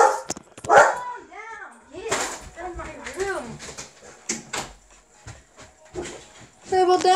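Dogs in the Roblox game Clone Tycoon 2 bark and whimper in short, excited bursts, with yips scattered through the clip, heard close under a player's near-constant talking.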